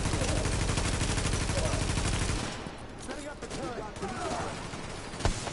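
Sustained gunfire in The Division on PS4, a dense, loud barrage for the first two seconds that thins into scattered shots and rumble, with one sharp crack near the end.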